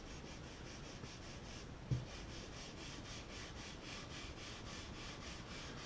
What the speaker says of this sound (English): I've got the Pumice 4F, and just got some applied here, and I'm putting very light pressure, and again I'm just going with the grain.